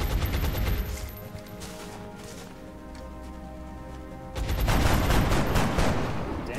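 Gunfire in the game XCOM: Enemy Within, Long War mod, a dense crackling burst of rapid shots filling the opening, easing off, then a second louder volley near the end, all without talk.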